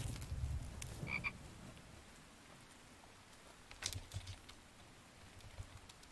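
A frog croaks in a survival video game, short and quiet, with a few isolated croaks spread over a soft, low background.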